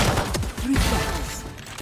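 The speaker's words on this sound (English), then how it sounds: "Three shots." Gunfire from the tactical shooter game Valorant, a quick burst of close, loud shots with sharp onsets, followed by a trailing tail of game ambience.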